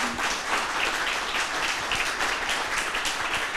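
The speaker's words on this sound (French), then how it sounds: "Applaudissements." A studio audience on a television set in Paris applauds steadily, a dense, even wash of clapping that holds at full strength for the whole stretch without voices.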